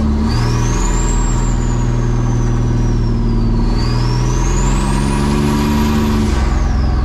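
A turbocharged S10 pickup with a manual gearbox accelerates in second gear at light throttle, its engine droning steadily and rising in pitch while a high turbo whistle sweeps up, falls, then climbs again; loud, close and continuous, with no talk.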